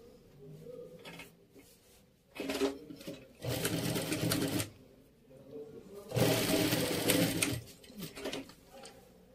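A home sewing machine stitches a fabric strap in two loud bursts of rapid whirring, each a couple of seconds long, separated by quieter pauses.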